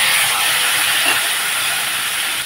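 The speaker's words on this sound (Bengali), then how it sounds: "এখন দিয়ে দিচ্ছি জিরা গুঁড়া আর ধনে গুঁড়া। আমি জল দিয়ে গুলিয়ে নিচ্ছি।" Cumin and coriander powder mixed into a water paste hits hot oil in a pan with fried pointed gourd, giving a loud, steady broadband sizzle and hiss that holds level throughout with no talk.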